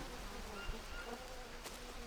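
Flies buzz in a steady, faint, close drone around a dead animal in the jungle survival game Green Hell, with no speech over it.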